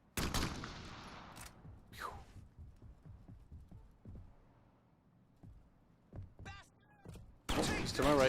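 Crackdown video game gunfire bursts out in scattered sharp shots, loud at the start and again near the end, with brief voices in between.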